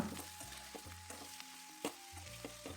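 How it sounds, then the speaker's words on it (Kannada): Eggplant pieces fry steadily in hot oil for a spicy brinjal gravy, giving a continuous close crackling sizzle with soft stirring knocks and scrapes scattered through it. "ಇದನ್ನು ಎಣ್ಣೆಲಿ ಒಂದು ಐದು ನಿಮಿಷ ಮಗ್ಗಕ್ಕೆ ಬಿಡೋಣ"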